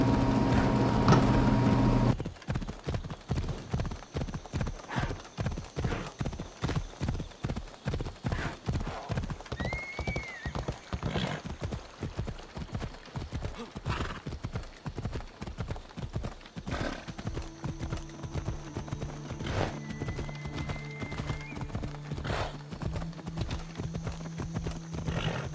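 Steady clip-clop of a horse's hooves while riding in Assassin's Creed Odyssey, a fast regular rhythm lasting throughout, with a couple of whinnies and faint background tones over the galloping beat.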